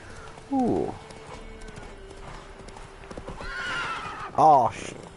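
A horse in The Witcher 3 neighs loudly twice, near the start and near the end, with hooves clopping softly between the calls over quiet game background sound.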